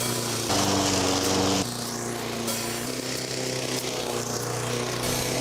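A lawn mower engine runs steadily and close, a loud continuous drone with a low harmonic hum and a brief shift in pitch, with no voices over it.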